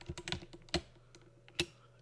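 Quiet computer keyboard typing: a handful of separate key clicks, irregular and close, two sharper strikes standing out, with no talk.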